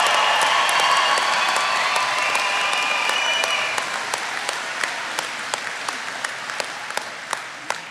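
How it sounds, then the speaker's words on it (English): At an apprentice school graduation ceremony, a crowd applauds the standing graduates with scattered cheers, loud and dense at first, then thinning so that individual nearby claps ring out as it fades. "Let's give them a round of applause."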